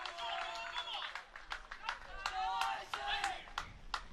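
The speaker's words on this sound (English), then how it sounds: "Got dueling cheering contingents, Johns Hopkins and Tufts right next to each other, sharing the same bleachers up here above the court." At the 2022 NCAA Division III tennis singles semifinals, spectators in the bleachers clap in quick, sharp bursts and cheer from slightly farther off, while a commentator talks over the noise.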